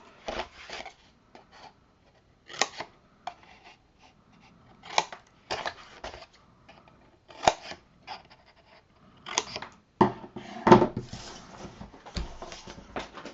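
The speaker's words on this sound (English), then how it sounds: "So you're just going to cut right on that line from folding and scoring." Scissors cut paper corners along folded and scored lines for a craft album, giving sparse, brief snipping and rustling bursts scattered across quiet pauses.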